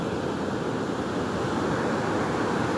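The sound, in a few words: sea waves on beach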